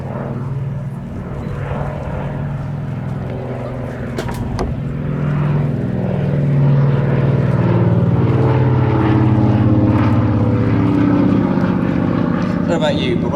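A Lockheed 12A Electra Junior twin-engine propeller plane passes at an airshow, its engine drone swelling from a distant hum to a loud, sustained roar, while someone talks over it.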